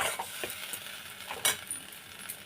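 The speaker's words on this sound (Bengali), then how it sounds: "এবার নাড়াচাড়া করতে হবে এটা" Ginger peel paste stirred in a pan gives a soft sizzle with a few scraping and clinking strokes, close but quiet over a short stretch.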